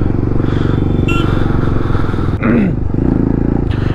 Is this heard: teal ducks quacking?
no